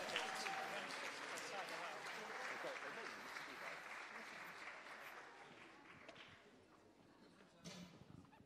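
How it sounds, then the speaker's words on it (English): An audience at a live awards ceremony applauds the finalists: sustained, full clapping from a large crowd that slowly fades toward the end, with a brief burst near the close. "please give our finalists a big round of applause"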